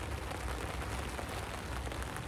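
Steady, dense rain falls nonstop, a constant hiss of drops pattering on a surface.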